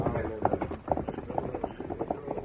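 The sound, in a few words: horse hooves clip-clopping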